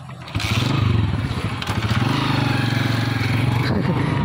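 A motorcycle engine swells in close by and keeps up a steady, loud putter with some rattly clatter.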